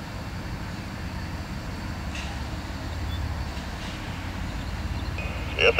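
CSX freight train with locomotive 3417 rolling past, a low continuous rumble of wheels and cars that swells slightly midway, with faint squeals and a louder burst at the very end.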